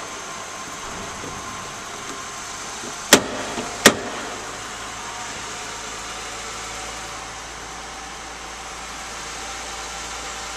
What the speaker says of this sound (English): I'm letting the car warm up for you.